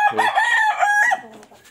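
Prize-winning roosters from a good breeding line crow loudly and close by, one long harmonic cock-a-doodle-doo rising and holding for about a second before trailing off into quieter background calls.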